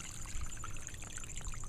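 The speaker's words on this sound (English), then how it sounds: "we're going to unscrew that thing and you're going to see water coming out" Water draining out of pool equipment once a drain plug is unscrewed during a pool closing, a steady close-up pouring and trickling stream running continuously with no talk.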